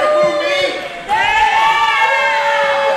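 Crowd noise from a live pro wrestling audience at a Next Up Pro show during Sledge Gibson vs Ty Awesome, a loud steady arena murmur and shouting with a brief dip before swelling again, commentary voices over it.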